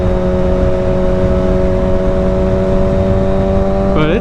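Motorcycle engine running loud and steady, a droning tonal hum with wind rush, rising briefly in pitch as it revs at the very end.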